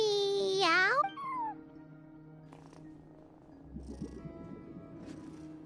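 A cat in the video game Genshin Impact gives one clear, rising-and-falling meow up close, followed by quiet game ambience with soft background sounds and no talking.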